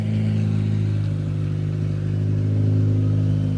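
A Senna GTR supercar moving indoors at a show, its engine holding a steady low idle rumble with a faint mechanical clatter, close and unchanging throughout.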